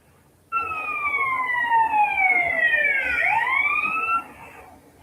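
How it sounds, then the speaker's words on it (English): A police car siren in a video game wails loudly in two sweeping tones that dip and rise together, then stops abruptly after a few seconds. "the sound of the sirens disappears"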